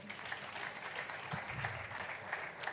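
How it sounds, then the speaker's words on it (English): An audience applauds Dr. Amina at a youth debate grand finale, a steady, fairly faint wash of many hands clapping with no break and no voices on top. "please, a round of applause for Dr."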